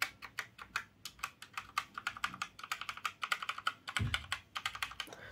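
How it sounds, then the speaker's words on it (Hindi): Fast typing on a Cosmic Byte computer keyboard, a close, dense run of crisp key clicks with a slightly heavier thock near the middle, steady and alone without any voices. "बहुत ही अच्छा साउंड कर रहा है ये कीबोर्ड"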